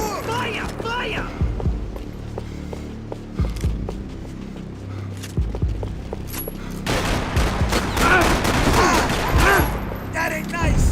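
Gunfire in the video game Max Payne 3, with scattered shots early and a dense fusillade of overlapping bursts from about seven seconds on, loud and close amid music and voices.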